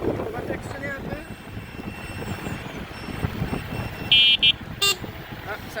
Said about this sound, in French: Ah, ça c'est l'autre klaxon que j'ai rajouté.